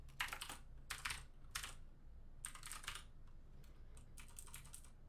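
Quiet bursts of typing on a computer keyboard come in about five quick clusters of clacking keystrokes, separated by short pauses, over a low background hum with no talking.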